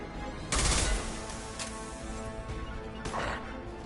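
Gunfire from the Mass Effect 2 video game: a dense background of rapid shots with two louder bursts standing out, steady and continuous throughout.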